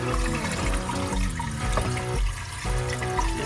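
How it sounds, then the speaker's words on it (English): Water drains from a dirty sink that had been plugged with dirt and mud, gurgling and rushing close by in uneven surges with tonal, bubbling swirls. "Okay, it looks like it's draining."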